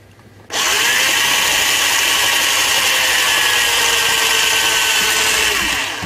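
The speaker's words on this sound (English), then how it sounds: "we're only drilling plastic, we don't need mega power." A battery drill bores through the plastic case of an Amiga 600, its loud, steady high-pitched whine starting abruptly after a brief quiet moment and holding for about five seconds before easing off.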